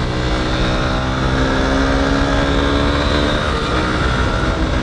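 A Honda Hornet 2.0 naked street motorcycle ridden hard, its engine droning loud and steady with shifting pitch as it holds revs, close up and without voices.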